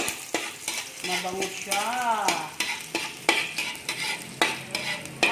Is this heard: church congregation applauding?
no